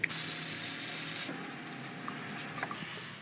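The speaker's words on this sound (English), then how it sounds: "Tecpo brake cleaner." A short, close burst of Tecpo brake cleaner sprays onto the drain plug of a Maserati during an oil change, a sharp hiss lasting about a second before quieter faint handling noises follow.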